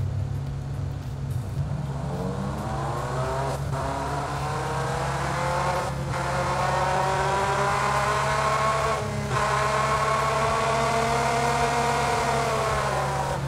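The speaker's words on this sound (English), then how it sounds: "So the auto mode will simulate real acceleration from a car, including shifting gears." A simulated car engine from the Krotos Igniter plugin in auto mode revs up with rising pitch, drops at each of three gear shifts and climbs again, loud and continuous.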